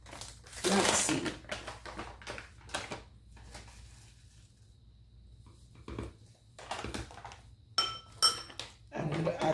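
A spoon adds flaxseed to a glass of milk, producing close clinks and scrapes of metal against glass in scattered bursts, with a few quieter pauses in between.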